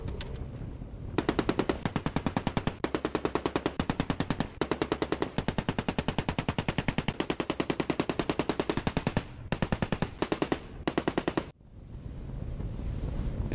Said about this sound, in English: First was our favorite, though, shooting machine guns.